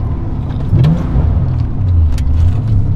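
A Porsche 993 Carrera 4S driven hard, its engine loud and close as it accelerates with a rising, revving growl.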